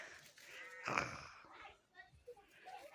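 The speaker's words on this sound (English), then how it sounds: "here's a cat." A cat meows once in a garden, a short outdoor call under quiet speech and background noise.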